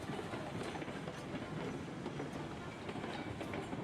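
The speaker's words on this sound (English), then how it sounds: "Oh, the train already left." A video game train pulling away, rolling with a steady rumble and faint rhythmic clickety-clack of wheels, moderately quiet and continuous with no voices.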